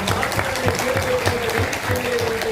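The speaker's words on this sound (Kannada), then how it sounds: "ಮಕ್ಕಳೇ ನಿಮಗೆ ಎಲ್ಲರ ಕಡೆಯಿಂದ ಜೋರು ಚಪ್ಪಾಳೆ" An audience at a youth parliament student debate competition gives loud, steady applause, dense clapping filling the whole moment with no gaps.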